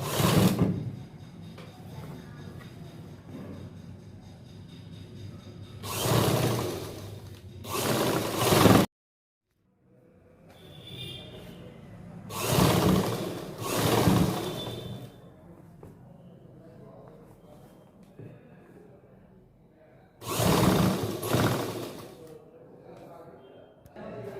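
A sewing machine stitches pleats on a khajuri salwar with a quarter-inch margin, running in three bursts of a few seconds each, loud and close, with quieter mechanical handling in between.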